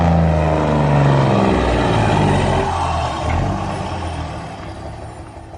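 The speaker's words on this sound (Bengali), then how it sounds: "হঠাৎ রঘু ব্রেক চাপল।" A vehicle braking on a night road in a horror audio drama, a loud, heavy mechanical rumble that swells and then gradually winds down and fades, with no voices over it.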